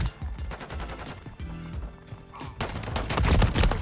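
ACR assault rifle gunfire in the video game Modern Warfare 3, heard as rapid bursts of automatic shots with a short lull, then heavier sustained fire toward the end, loud and close.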